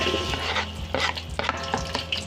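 Onion and garlic sizzle in a hot pan while a utensil stirs and scrapes, with several sharp clinks against the pan.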